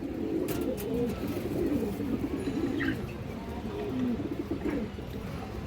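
A red khaki male Kajlaputti pigeon coos in repeated low, throaty phrases, close and steady, among other birds in a loft.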